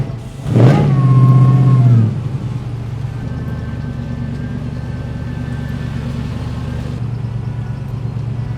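A 1962 Chevrolet Impala engine revs sharply once on its first test drive in the SEMA show lot, a loud close rising bark that settles into a steady, throaty idle rumble.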